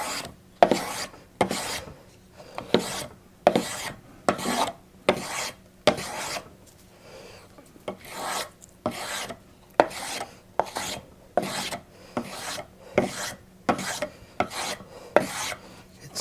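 A wood rasp strokes repeatedly along a wooden spindle to round it, roughly twenty rhythmic scraping passes about one per second, close and dry with short pauses between strokes.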